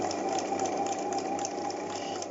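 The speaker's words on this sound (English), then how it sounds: "I am going to sew around the curved with my 1 centimetre seam allowance" A sewing machine stitches around a curved seam on a tailored flap pocket, giving a steady, close, rapid mechanical whirr and patter with no pauses or speech.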